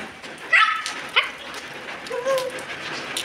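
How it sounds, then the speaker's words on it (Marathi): Stray dogs bark and yip outdoors, two short sharp barks near the start followed by a whimpering whine, over a background of rain. "बघ कसे भुंकतात ते"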